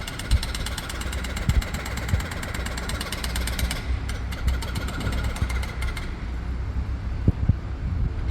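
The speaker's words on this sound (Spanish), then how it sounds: "Con el martillo hidráulico suena el pica pica." Hydraulic hammer breaking concrete at the Santiago Bernabéu stadium construction site, a rapid, continuous mechanical pounding over engine rumble, heard from a moderate distance with a few sharper knocks.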